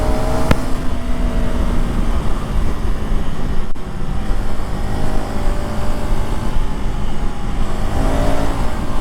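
A motorcycle engine revs while riding, a loud continuous roar with rising and falling pitch sweeps and a sharp click near the start, steady throughout with no talk.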